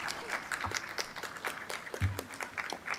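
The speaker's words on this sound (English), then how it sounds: "Graduates, would you now please rise, turn around, and applaud those who have contributed so much into bringing you here to this place this evening." Graduates at an evening university commencement ceremony applaud together, a dense crowd of clapping with irregular sharp claps and some louder bursts, filling the hall.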